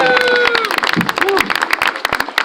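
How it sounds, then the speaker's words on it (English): An audience at an Epcot holiday show claps in a short burst of applause, crowded and close, under a loud voice talking over it. "Give yourselves a round of applause!"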